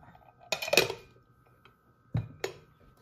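A pot lid set down with a sharp metallic clatter, followed by a couple of lighter clinks of dishes, close and distinct against a quiet kitchen background.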